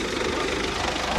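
A new Belarus tractor engine, its turbo intake pipe come loose, runs at a steady idle with a low, even, throbbing rumble heard close by.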